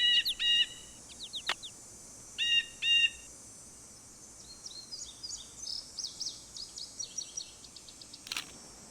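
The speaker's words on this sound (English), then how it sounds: "there should be a blue jay" A blue jay calls in the Nancy Drew video game Ghost Dogs of Moon Lake, giving repeated bright, harsh calls in short bursts against quiet outdoor ambience, with fainter chatter later.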